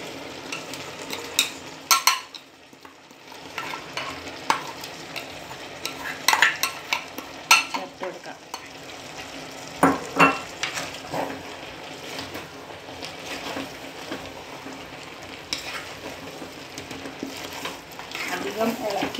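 Prawn aviyal is stirred in a pan with ground coconut paste, a spoon scraping and clinking against the metal with soft bubbling underneath, close and intermittent, while a person talks at times.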